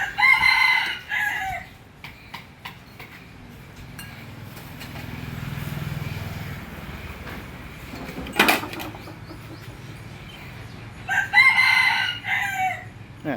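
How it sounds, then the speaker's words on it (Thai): A rooster crows twice, once at the start and again near the end, fairly close, with quiet background noise and a sharp clatter in between, at a pork noodle shop in Thailand. "เสียงไก่ขันเข้ามานี่เพาะจังเลย"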